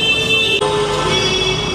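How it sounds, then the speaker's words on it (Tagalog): Car horns honk amid dense Kolkata street traffic in West Bengal, sustained overlapping toots layered over a steady roar of road noise, loud and close. "Nakakatulele yung sound ng busina."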